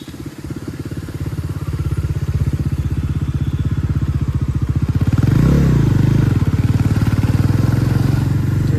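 A Bajaj Pulsar NS400Z motorcycle engine while riding, a loud close pulsing throb that builds and deepens as the throttle opens midway through, steady and rhythmic, with no talking.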